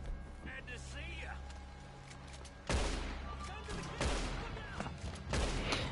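Gunshots in a Western open-world game, sharp loud blasts at intervals over a steady background with faint distant rumble and voices underneath.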